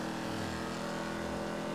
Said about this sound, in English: I put a engine modification in here. It's called a Vigoro. That's the name of the engine.